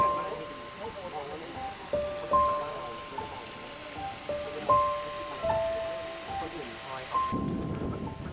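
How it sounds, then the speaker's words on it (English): Rain falls during a fishing session, a steady hiss with surges, while faint rumbles and sustained tonal notes drift over it. "Started raining again, but that doesn't mean we stop."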